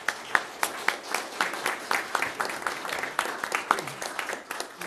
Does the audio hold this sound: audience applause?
yes